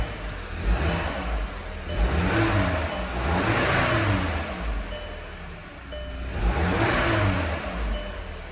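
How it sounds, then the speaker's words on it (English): A cold Volkswagen engine idling just after startup, a steady low rumble with slow swells in loudness, heard close with no talk. "Car's ice cold. Just started it up."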